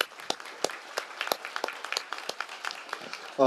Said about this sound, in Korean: 다시 한번 박수를 보내주시기 바랍니다